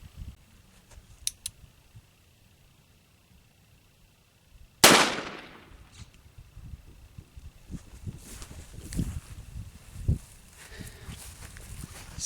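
A single sharp, loud gunshot from a Cimarron Richards Conversion Type 2 .44 Special revolver cracks outdoors, followed by scattered clatter and handling noises in the quiet.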